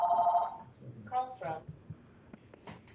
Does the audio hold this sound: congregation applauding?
no